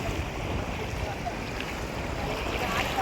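Small passenger boat riding over rough sea waves, with constant wash of water and wind buffeting close to the microphone, a steady loud rushing noise throughout.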